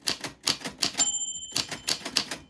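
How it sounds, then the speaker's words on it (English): Names are typed on a tiny typewriter in crisp, rapid keystroke bursts, with a bright ring of the bell in the middle and a short pause before the clacking resumes. "Here is a tiny version of a typewriter that I am just obsessed with."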